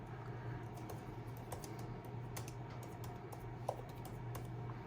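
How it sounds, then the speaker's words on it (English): Quiet typing on an Apple iPad Pro Magic Keyboard, a steady run of soft, fast key clicks with one slightly louder tap, close by and without talk. "Let's go into our notes and start typing some random stuff."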